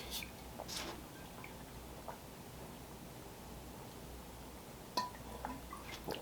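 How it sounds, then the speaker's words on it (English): Rain pours steadily outside, heard from indoors as a faint, continuous hiss with a few sharper drips and taps scattered through it, and no one speaking. "I can hear it pouring outside."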